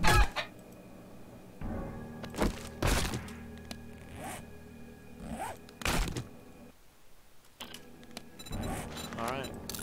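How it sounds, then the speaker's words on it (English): A chicken in the zombie survival game 7 Days to Die makes a few soft, intermittent clucks, mixed with game sounds and some thumps, while a person talks at intervals. "Chicken."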